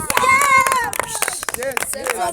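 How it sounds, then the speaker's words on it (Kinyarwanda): Children and an audience clap in quick, irregular bursts, heard under a voice that talks continuously over the applause. "amashyi menshi cyane ari amashyi"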